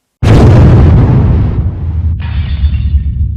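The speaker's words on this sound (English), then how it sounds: "A large explosion was heard by local people, followed by an earth tremor." A single large explosion hits suddenly with a loud, deep boom, then rumbles and decays over a few seconds, and a thin high hiss lingers at the end.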